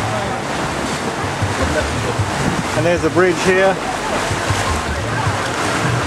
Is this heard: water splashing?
yes